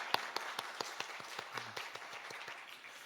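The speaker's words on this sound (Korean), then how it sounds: "앞에서 한번 박수 더 하죠." Church congregation clapping at a Korean service, a sparse, slow run of separate handclaps at moderate distance, about a dozen distinct claps over a few seconds with a brief low voice murmur partway.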